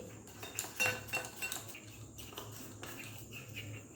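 Metal spoon scraping and clinking against a bowl while cornflour is worked into oil, a run of close, irregular taps and scrapes under a low background hum, with no talking.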